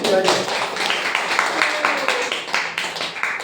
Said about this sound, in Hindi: बहुत ज़्यादा जोरदार ताली